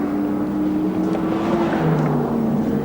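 A touring race car, number 10 driven by Robbie Francevic, laps Amaroo Park Raceway in 1986 with a loud, steady engine drone that holds an even pitch throughout.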